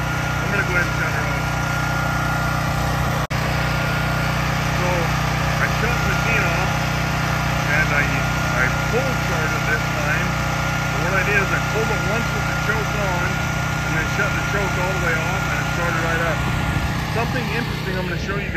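A small propane-fueled generator hooked to a house and a 250-gallon tank runs at a steady drone, with someone talking over the engine noise throughout.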